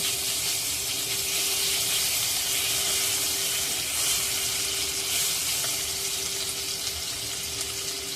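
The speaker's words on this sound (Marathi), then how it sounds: "लगेच त्यामध्ये एक चमचा आलं लसणाची पेस्टसुद्धा टाकून घेऊया हे सर्व परतून घेऊया" Garlic cloves and ginger-garlic paste sauté in a pan for a fish curry, giving a steady, close, even sizzle that holds without break and with no one talking.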